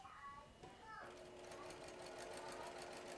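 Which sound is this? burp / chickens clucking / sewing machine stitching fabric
sewing machine stitching fabric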